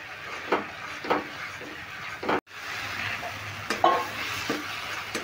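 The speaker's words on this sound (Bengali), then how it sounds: "এই সর্ষেটা দেওয়ার পর আমি একটু ভালো করে কষিয়ে নেব।" Pomfret curry with mustard-poppy seed paste being sautéed in a pan over high heat, a low sizzle broken by repeated spatula scrapes and knocks at irregular intervals, close and moderately quiet, with no speech.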